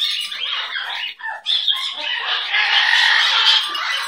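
A pet bird squawks loudly and close by, giving harsh, repeated calls with brief breaks between bursts.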